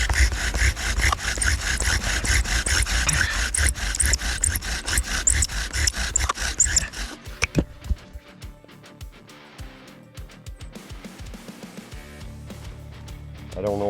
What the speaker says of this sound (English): if you get a fire going with a bow drill, you don't want the fire to go out.